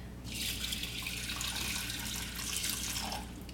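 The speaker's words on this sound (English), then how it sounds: "I'm going to add some water, bring these to a boil" Water pours steadily from a tap into a pot of lentils for a vegetarian moussaka, a close, continuous rushing stream lasting a few seconds without speech.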